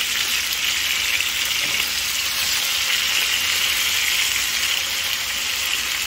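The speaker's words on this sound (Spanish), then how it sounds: "Vamos a ir volteando esto, volteando su cebolla, su ajito, que no se les queme su ajo." Chopped onion and garlic fry steadily in hot oil while being turned for a red salsa, giving a continuous, fairly loud sizzle with a faint soft scrape partway through and no talking.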